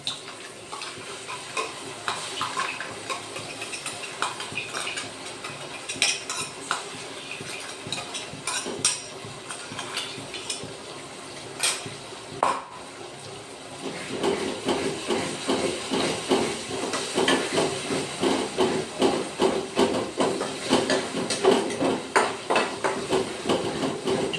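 Tomato, cashew and chilli masala paste tipped into a hot pan, giving a steady hiss and sizzle with scraping stirs and sharp clinks, growing denser and louder halfway through; no talking.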